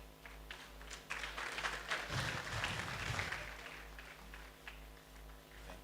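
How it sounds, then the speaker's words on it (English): Audience applause at a university roundtable event, a spread of scattered clapping that swells in the middle and tapers off, fairly distant, with no talk over it. "I guess that clapping is for Professor Yutade."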